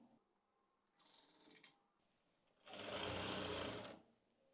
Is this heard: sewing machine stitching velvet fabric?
yes